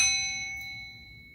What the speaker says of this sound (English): I'm going to tap this bell lightly.